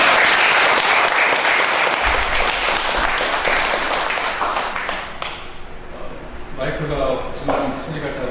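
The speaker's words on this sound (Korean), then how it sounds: "뜨거운 박수로" Warm applause welcoming a guest lecturer at a faith lecture held in a church, dense clapping filling the room and thinning toward the end, with speech mixed in.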